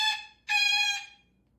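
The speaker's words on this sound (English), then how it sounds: "So can you keep it down a little when they're out there riding?" A pet parrot squawks loudly in two harsh, harmonic bursts, a short call followed by a longer drawn-out one, close up with no one talking.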